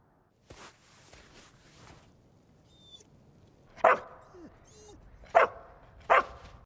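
A dog in a snowy mountain film scene gives a few sharp barks, spaced apart at moderate distance, over quiet background with some faint whimpering sounds.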